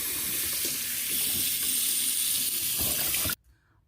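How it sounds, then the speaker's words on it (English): Cold tap water running over a block of ice: a loud, steady close-up gush of faucet water that stops abruptly at the end, leaving near silence. "I tried keeping the cold water on this for almost 5 minutes."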